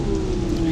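Heavy rain pours steadily in a dense, loud, even hiss, with a faint sustained hum running beneath it, no voices.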